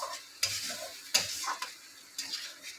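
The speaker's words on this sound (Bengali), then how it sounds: "মশলাটা আস্তে আস্তে কষানো হোক।" Masala for a fish roe curry being stirred and sautéed in a pan, a few close scraping strokes over a soft, low sizzle, with no talk.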